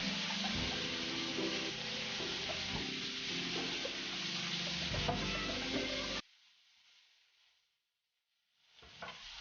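Morels stuffed with shrimp paste fry in an iron wok with a loud sizzle and scraping stir sounds, then drop to a faint hiss and near silence before the sizzling returns.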